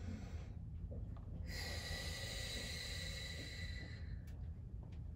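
Slow, drawn-out exhalations of a balloon-breathing exercise, a soft breathy rush lasting a few seconds, faint and close with no talk.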